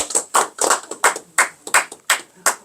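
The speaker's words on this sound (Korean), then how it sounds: "박수 한번 칩시다." A congregation at a worship service held in a pharmacy office claps in unison, about ten sharp, close hand claps in a steady beat.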